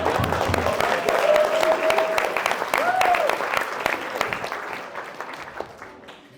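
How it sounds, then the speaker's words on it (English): A wedding audience applauds with dense, steady clapping that fills the room and slowly fades toward the end, with a few voices and a brief whoop over it. "So please, round of applause for Jez."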